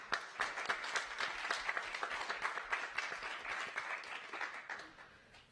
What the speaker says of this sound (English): So I just want to ask one more time, everybody, to join me in applause for the team.